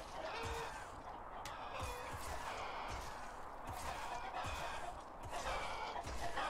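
Chickens cluck and squawk in a video game battle against an elephant, a dense, steady flock chatter with bursts of fowl calls throughout.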